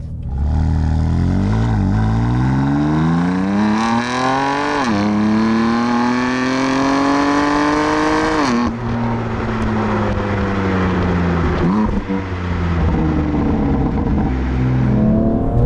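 A BMW M3 CS engine pulls hard through the gears at speed, rising in pitch with brief dips at each shift, loud and close, with steady road noise underneath and no voices.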